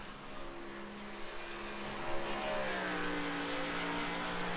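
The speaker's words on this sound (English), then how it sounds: "Dallas Knox revs up that NASCAR podium Toyota Supra down on the bottom side of the racetrack." A NASCAR Toyota Supra race car engine in a racing video game revs steadily at Texas, its droning pitch climbing and sliding through gear changes, fairly loud and continuous with no talk.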